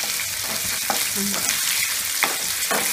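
Chopped onion with a pinch of salt sautéing in a pan for Indian-style broccoli bhaji, giving a steady close sizzle with a few soft stirring scrapes and clicks, no voices.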